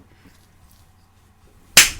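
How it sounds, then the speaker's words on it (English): A single sharp hand slap from a high five, loud and close, cracking out abruptly after quiet room tone and trailing off briefly. "That was the sound of my high five"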